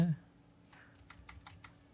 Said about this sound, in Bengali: এন্টার বাটন হিট করব।